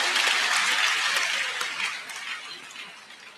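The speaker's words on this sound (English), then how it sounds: "Shall we give a larger round of applause to Dr. Chris Kirubi?" An audience at an education and leadership event applauds a guest speaker, a full, dense burst of clapping that starts strong and gradually thins and fades over a few seconds.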